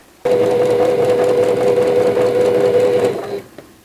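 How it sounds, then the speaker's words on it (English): A sewing machine stitches quilt fabric blocks together, running steadily for about three seconds with a continuous mechanical hum, then stops, leaving a brief faint clatter. "now I'm going to sew the next set of blocks together"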